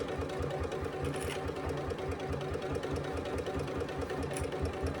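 A sewing machine runs steadily stitching a seam on a Scarlett Hobo bag, its rapid mechanical needle chatter continuous and close with no pauses.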